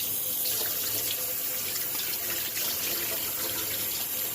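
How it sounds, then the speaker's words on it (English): Warm tap water runs steadily from a faucet into a sink while a bowl is rinsed, producing a loud, continuous close-up hiss and splash with no speech. "Then wash it off under some warm water."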